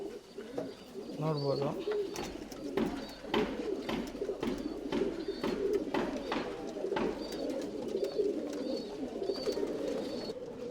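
Tumbler pigeons coo and flutter steadily throughout a loft, soft layered calls close by, while someone talks over them.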